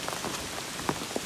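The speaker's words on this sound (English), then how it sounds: "I'm just playing in the rain." Rain patters on an umbrella on the Appalachian Trail as a close, steady drumming, with a few sharper drops standing out.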